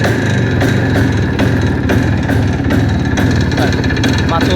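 A motorcycle engine runs loud and steady at close range, a continuous rough mechanical drone with faint regular pulses throughout.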